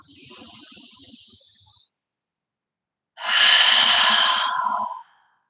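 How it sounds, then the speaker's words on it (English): A deep breath during a gentle yoga class: a softer inhale, a pause of silence, then a louder, longer exhale, both hissing breaths close to the microphone. "Take a deep inhale. Exhale, side out."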